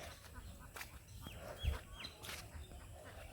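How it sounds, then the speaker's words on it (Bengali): Village chickens cluck faintly outdoors in a few short, scattered calls over a quiet background. "দেখি মুরগিগুলো কত সুন্দর হয়ে উঠছে"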